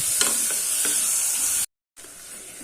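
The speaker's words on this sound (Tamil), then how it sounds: "கொஞ்சம் தக்காளி கொஞ்சம் நல்லா வதங்கட்டும்." Tomato pieces sizzle and hiss steadily in a hot pan of oil for a potato-and-pea kurma, with faint stirring scrapes, a brief cut to silence, then the frying resumes.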